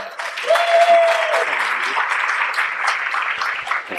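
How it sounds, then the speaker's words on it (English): An audience applauds after a talk, a warm steady burst of clapping that swells quickly and holds, with a single whistle near the start. "So, big round of applause for Matthew."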